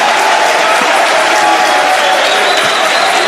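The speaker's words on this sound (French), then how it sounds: "des présidents que je vous demande d'applaudir fortement" A crowd at a political rally applauds presidents with loud, dense, unbroken clapping that holds steady for several seconds.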